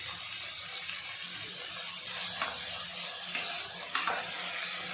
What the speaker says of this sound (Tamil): நல்லா எண்ணெயிலே 2 நிமிஷம் நல்லா வதக்கி விட்டுக்கலாம்.